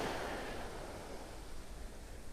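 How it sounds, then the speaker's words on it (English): Ocean surf rolls onto a North Carolina beach in the early morning, a soft continuous wash of breaking water, fairly faint and steady with no voices. "The water's calming down a little bit."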